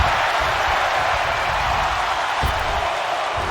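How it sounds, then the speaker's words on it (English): A dense, roaring arena crowd in the video game WWE 2K19 Royal Rumble fills the whole stretch, a steady wash of voices that swells slightly with rhythmic counting chants. "Listen to this crowd count the next one in"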